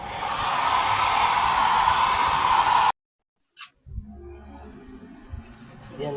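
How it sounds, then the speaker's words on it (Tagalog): A hair dryer blows steadily and loudly on an eyeglasses frame to dry it, then cuts off abruptly, leaving faint handling clicks and rustles. "I-blower ko ulit siya para matuyo ka agad."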